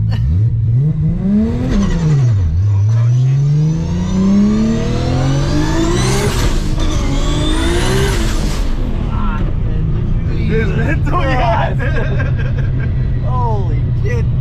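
A Nissan GT-R revs hard and accelerates through gear shifts, its engine note rising and falling in repeated sweeps with brief drops between gears, loud and close inside the cabin while people chatter and laugh over it.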